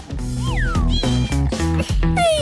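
A pet cat meows in repeated rising and falling cries over a dense, loud background of music or other sound, the calls short and close.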